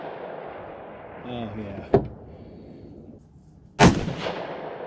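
Two loud, sharp Howa 1500 rifle shots about two seconds apart at an outdoor range, each with a short ringing tail, and someone speaking briefly between them.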